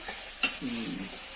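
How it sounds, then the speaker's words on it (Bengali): Meat frying in a pan with ginger, garlic, cumin powder, turmeric, salt and chilli for biryani, a steady soft sizzle with one brief stirring scrape, no talk. "আদা, রসুন, তারপরে তোমার জিরের গুঁড়ো, হলদি, লবণ, ঝাল, মাংসটা কষাবো।"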